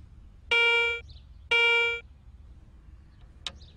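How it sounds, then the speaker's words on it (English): Garrett Ace 250 metal detector sounding two identical steady electronic tones, each about half a second long, as a coin passes over the search coil, followed by a brief faint blip. "Now, listen to the sounds made by various common objects as they are brought across your search coil."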